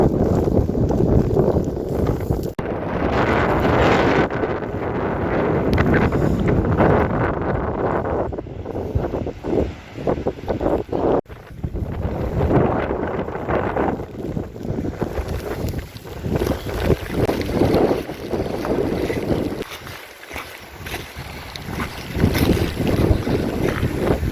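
Strong wind buffets the microphone at the Vatnajökull glacier tongue, loud continuous roaring gusts that rise and dip throughout.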